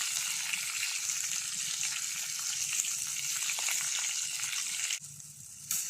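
Curry leaves, asafoetida and green and dried red chillies frying in hot oil, a steady close-up sizzle and crackle throughout with a brief dip near the end as the pan is stirred.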